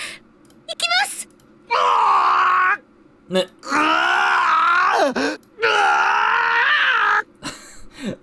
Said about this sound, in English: I feel like the voice actor had a field day trying to do those screams like that